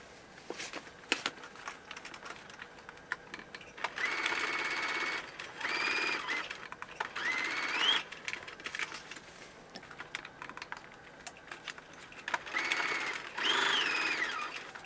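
A sewing machine stitches hip and hem darts on a pant piece, running in several separate bursts of steady whirring with short pauses between, close and fairly quiet.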